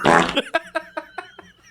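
Fart noises from a sound machine: one long, loud, close blast followed by about six short, evenly spaced bursts.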